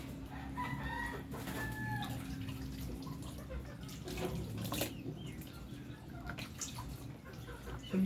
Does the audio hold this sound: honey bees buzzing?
no